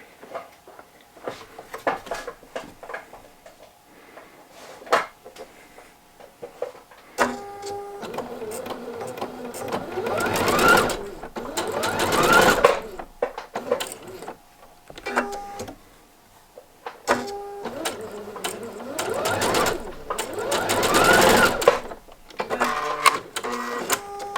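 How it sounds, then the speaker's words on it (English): A sewing machine stitching a V-neck neckband on knit fabric, running in two long loud bursts separated by pauses, with shorter clicks and handling noises between stitching runs. "I'm just going to sew from one corner following that line with my needle stopped in the center dot there, pivot, and down to the other corner"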